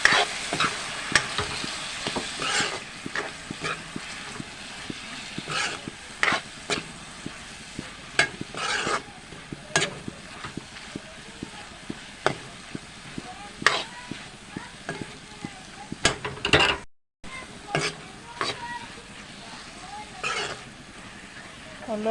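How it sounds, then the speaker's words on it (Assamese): Soaked moong lentils fry in a pan with a gentle sizzle, broken by frequent, close scraping strokes of a spatula stirring them. "এইখিনি মই এনেকৈ ভাজি লৈছোঁ।"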